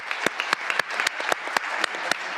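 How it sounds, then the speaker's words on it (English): Conference audience applauding four panelists after a session on empowering victims and guaranteeing their rights, a moderate steady clapping with a few sharp louder claps standing out near the listener. "Please join me in applauding the 4 panelists"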